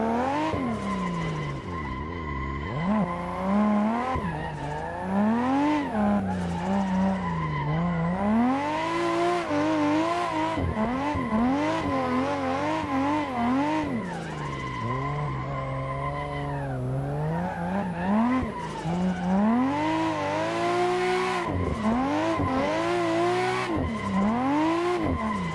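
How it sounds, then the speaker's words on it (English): A car drifts in Assetto Corsa with loud, close engine revving that surges and dips repeatedly, overlaid by screeching tire squeal through the slides, continuous for the whole stretch with no voices. "So that was some drifting in Assetto Corsa."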